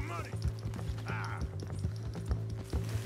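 Horse hooves clip-clop in Red Dead Redemption 2, a steady run of close, sharp hoof strikes spread through about three seconds under game music, with a brief whinny-like tone early on.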